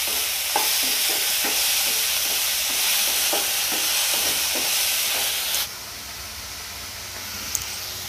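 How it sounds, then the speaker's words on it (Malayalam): Sliced onions fry in a hot pan for egg curry, giving a loud, steady sizzle broken by repeated scraping taps of stirring, then continuing as an even hiss once the stirring stops. "സവാള നല്ലോണം മുരിഞ്ഞ് വരണം കേട്ടോ"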